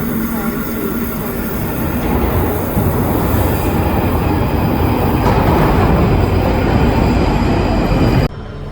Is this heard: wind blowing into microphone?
no